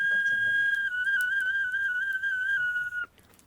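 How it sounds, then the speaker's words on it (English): A whistle made from a red deer leg bone plays a thin, sustained high tone with slight wavering pitch steps for about three seconds before stopping abruptly, close and clear. "you have a whistle"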